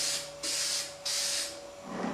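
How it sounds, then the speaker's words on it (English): A finish coat is sprayed onto a scroll saw project from an aerosol can in two steady hissing bursts, each about half a second long, close by, with a short break between them and a faint tail of a third. "give it a nice, even, light spray"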